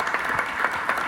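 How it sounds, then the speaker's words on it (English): Audience at an Arkansas Martin Luther King Jr. Commission event in Harrison clapping, a brief steady patter of many hands at moderate distance. "Give them a round of applause, guys."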